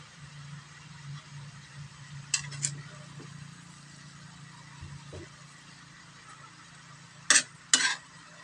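Vegetables for lumpiang gulay being stirred in a pan, giving quiet scraping and occasional light taps over a steady low hum, with two louder clatters of the utensil near the end.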